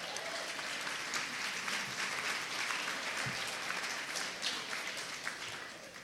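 A room full of attendees at an Ignite Tampa Bay 2014 event gives a round of applause, a steady, fairly distant wash of many hands clapping that holds at an even level throughout before starting to fade.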